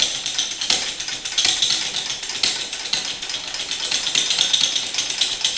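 Manual tube bender cranked down on pipe for a 1997 Toyota Tacoma build, a loud, rapid rattling and ratcheting clatter with rhythmic metallic knocks, steady and close throughout.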